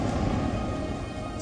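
A single sharp, booming blast from Israeli Air Force bombing in Gaza breaks through a low, rumbling background right at the end.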